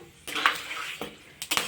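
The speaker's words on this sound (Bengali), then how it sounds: "এবার তেলের মধ্যে আমি দিয়ে দিচ্ছি 6টা এলাচ, 4টে দারচিনি, 4টে লবঙ্গ, 10টা গোলমরিচ, 3টে তেজপাতা" Whole cardamom, cinnamon, cloves, peppercorns, bay leaves and mace hit hot oil for a Dhaba-style mutton masala, hissing in sudden bursts that flare up and die back, close by, with a few brief clinks and no talking.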